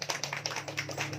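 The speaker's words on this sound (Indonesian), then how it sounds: "Tepuk tangan untuk Bapak Ibu semuanya." An audience at an outreach gathering in Cikalong, Sidareja, Cilacap claps together in a steady, rhythmic pattern of sharp, evenly spaced hand claps, moderately near and without talk over it.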